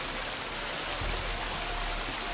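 Steady rushing waterfall in the video game Gothic 2, a constant broadband wash of falling water heard alone at moderate level.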